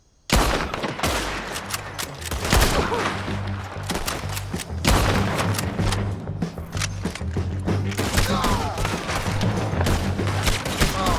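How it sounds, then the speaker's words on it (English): Gunfire in Red Dead Redemption 2, a western shootout: a dense fusillade of loud, sharp shots and booms begins abruptly after a moment of quiet and keeps going in rapid, irregular bursts. "Let's just start shooting."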